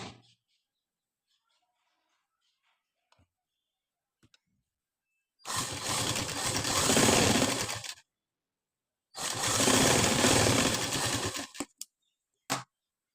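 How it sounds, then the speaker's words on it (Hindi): Sewing machine running a loose basting seam along the folded edge of a blouse, two steady bursts of fast mechanical stitching of about two and a half seconds each, close and loud, separated by quiet pauses with a few small handling clicks. "इस पर एक कच्ची सिलाई लगाएंगे क्योंकि इस पर तुरपाई होगी"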